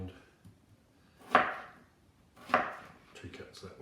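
A knife cuts through a potato on a board, slicing it into small cubes. Two distinct, sharp chops land about a second apart, with quieter handling noise after them and a faint voice in the background.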